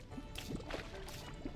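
Splashy water sounds from a fish leaping out of water in Terraria, several short wet bursts over a steady game background with music-like tones, close and moderately loud.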